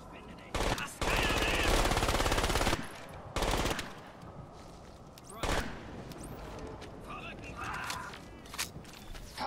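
Minigun fire in the video game Crysis, several sustained roaring bursts of rapid shots in close succession with short gaps, loud and close, mixed with other game sounds between bursts.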